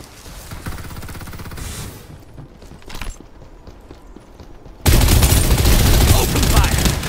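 Sustained rapid gunfire in the battle-royale shooter Farlight 84, a dense rattling burst of automatic shots at the start, then quieter action, then a loud, continuous wall of close fire filling the last two seconds.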